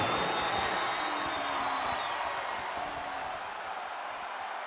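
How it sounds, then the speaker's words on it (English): Capacity arena crowd roaring steadily throughout a WWE 2K24 Hell in a Cell match between Undertaker and Pat, a dense continuous wash of cheering at moderate level with faint game tones on top. "you hear this capacity crowd following you on that journey"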